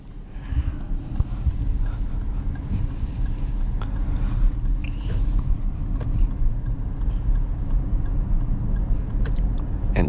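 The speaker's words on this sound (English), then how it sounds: "And just give it some gas." A 2024 Lexus RZ450e electric luxury SUV accelerating on the road, a low steady rumble of tyre and road noise with wind buffeting the microphone, no engine note, and no talking.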